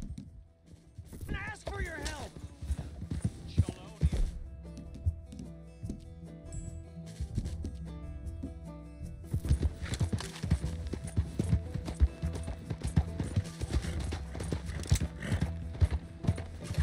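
Hooves clip-clop in quick galloping rhythm with occasional whinnies, mixed with mechanical clatter and a busy soundtrack, in Red Dead Redemption 2.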